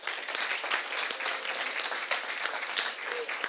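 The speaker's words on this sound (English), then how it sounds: "And a final round of applause for all of our startups." A startup forum audience gives a final round of applause to all the startups, steady sustained clapping from a crowd filling the room without a break.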